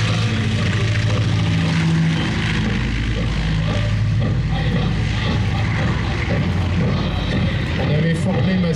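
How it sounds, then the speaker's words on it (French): A Fieseler Storch propeller observation plane flies past at the La Ferté-Alais air show, its engine giving a loud, steady droning roar that fills the whole clip, with a voice talking faintly beneath it. "Le Storch à la base était un avion d'observation."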